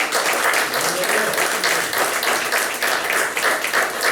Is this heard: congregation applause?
yes